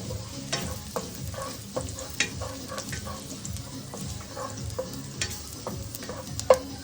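Garlic and onions sauté in a pan, giving a steady close sizzle broken by repeated scrapes and clicks as the mix is stirred. No voices are heard.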